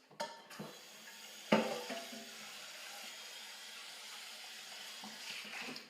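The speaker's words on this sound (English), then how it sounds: "in the same pot, actually, I'm gonna give it one more rinse" Running water rinses a metal cooking pot in a kitchen sink, a steady low wash of flow with a sharp clank of the pot near the start and a few soft knocks.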